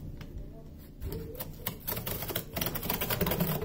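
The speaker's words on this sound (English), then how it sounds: "I'm scoring this a little bit more deeply with the scissors." Scissors scoring across the corrugation of corrugated cardboard while framing, giving a dense run of scratchy, crackling scrapes up close that grows louder and busier toward the end, with no talking.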